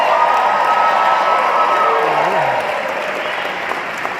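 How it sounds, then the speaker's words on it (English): A crowd at a motivational speaking event bursts into loud, dense applause with a few cheers and whoops. It stays strong at first and then slowly eases off, and a faint voice slips through partway. "Give yourselves a round of applause."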